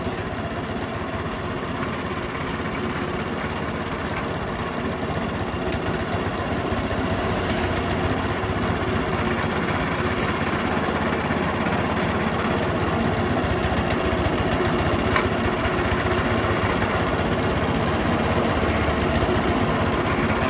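A diesel engine at a sugar mill runs in a steady, dense mechanical drone with rapid knocking pulses. The noise stays loud and constant throughout, with no talk over it.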